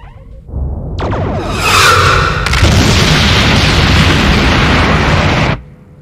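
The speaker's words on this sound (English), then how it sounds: "Mr. Worf, ready photon torpedoes. Set to detonate on impact with a Promelian vessel" Photon torpedoes from a Star Trek starship fire and detonate on impact with a Promellian vessel: a rising whoosh, then a loud, sustained explosive roar and rumble lasting several seconds before cutting off, with no voices.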